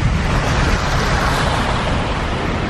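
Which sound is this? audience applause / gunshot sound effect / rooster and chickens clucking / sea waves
sea waves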